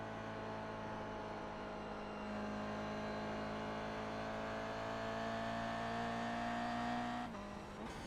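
In iRacing, a Toyota GR86 engine drones steadily as the car circles Tsukuba, its pitch climbing gradually under throttle before a sudden drop near the end as it shifts.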